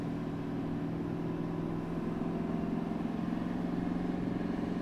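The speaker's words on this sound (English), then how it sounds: "that exhaust brake really kicks in" A Chevy GM diesel truck running downhill with its exhaust brake engaged, giving a steady, droning low engine rumble with a throaty tone that holds for the whole stretch.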